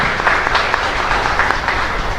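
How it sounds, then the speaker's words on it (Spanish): Congregation applauding during a Catholic Mass at Capilla Kurusu Ñiuati in Luque, steady dense clapping filling the chapel without a break. "Fuerte aplauso para el Señor."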